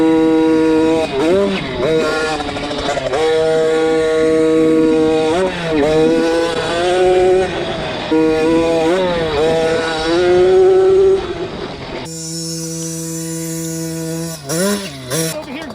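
Small JKS50 dirt motorcycle ridden toward a driveway jump, its two-stroke engine revving and rising in pitch through repeated throttle bursts, loud and close, then a steadier tone near the end with a few sharp spikes.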